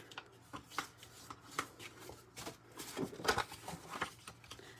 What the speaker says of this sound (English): Let me fold these cards.